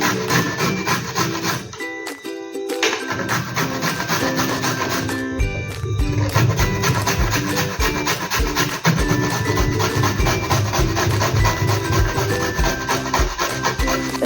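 A peeled sweet potato is grated by hand, making rapid, rhythmic scraping strokes against the grater that run continuously, close and loud, with two brief pauses.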